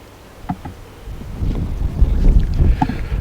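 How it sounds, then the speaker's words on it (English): Wind buffets the microphone with low rumbling gusts that grow stronger and steadier toward the end. "It's getting a bit windy."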